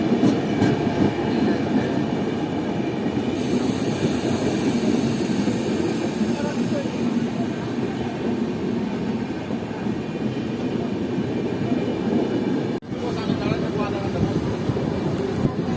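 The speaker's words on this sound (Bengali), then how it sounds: "ফাইনালি আমাদের ট্রেন ছেড়ে দিল রামপুরহাট জংশন রেলওয়ে স্টেশন থেকে 5 মিনিট হল্ট দেওয়ার পর।" Uttarbanga Express (13147) pulling out of Rampurhat Junction, heard from inside a general coach as a steady loud rumble and rattle of the moving train, with voices mixed into the din.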